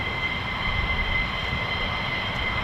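A fighter jet aero-brakes on landing at an RAF base, its engine roar a steady, sustained rush from a moderate distance with no pauses.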